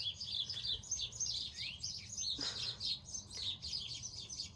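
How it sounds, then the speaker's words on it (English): Several small birds chatter and chirp rapidly in a tree beside an Australian cottage garden, a busy, squabbling tangle of high tweets at moderate distance with no voices. "There are some birds having a fight in a tree."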